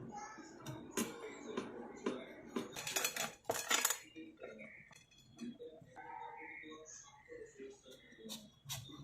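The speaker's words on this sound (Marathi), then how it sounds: "आपण कैरी कापून घेणार आहोत" Knife strokes chop a raw green mango into pieces on a board, giving a run of sharp clicks and taps that bunch together and then thin out, heard close under a voice.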